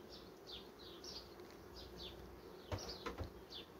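Honeybees buzz around the frames of a crowded hive colony, a soft, steady drone with brief rising whines from individual bees passing near, plus a couple of short knocks.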